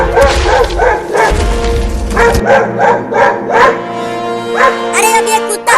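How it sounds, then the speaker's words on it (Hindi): A dog barks repeatedly at an elephant, loud and close, with rapid yapping barks and a few whimpers over a steady background. "अरे अब ये कुत्ता हाथी के ऊपर क्यों भौंकने लगा?"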